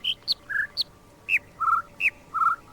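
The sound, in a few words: bird chirping melody in a video game bird noise puzzle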